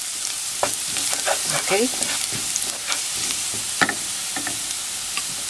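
Garlic sautéing in a pan, a steady close sizzle with occasional stirring scrapes, while a person speaks briefly.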